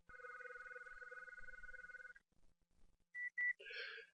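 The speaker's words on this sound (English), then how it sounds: "we'll hear it ring into the FXO module" An electronic telephone ring warbles steadily for about two seconds into an FXO module, followed by quiet clicks, then two short sharp confirmation beeps and a brief burst of tone.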